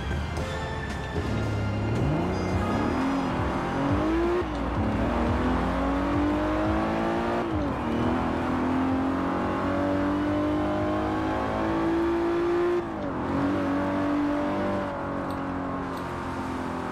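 An Aston Martin engine revs in Forza Horizon 4, rising and falling in pitch through repeated loud, close throttle sweeps with gear-change dips over a steady droning base, with no talk.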